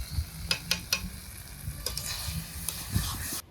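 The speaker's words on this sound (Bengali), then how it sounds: "কিছু সময় নেড়ে চেড়ে নিলাম, অনেকটাই শুকিয়ে গেছে।" Dry scraping and stirring of taro greens in a frying pan with a soft sizzle underneath, a few sharp clacks of a spatula against the pan.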